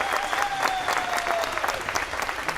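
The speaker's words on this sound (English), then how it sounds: "If you could stand up and get a round of applause." Many hands keep up an even, sustained round of clapping from a seated audience at a middle school band concert, no voices standing out over the crowd.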